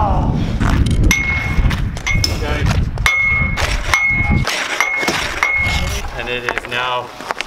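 A football shot strikes a metal crossbar with repeated ringing clangs, each a sharp metallic ping with a short decay, spread across several seconds outdoors while voices talk and shout nearby.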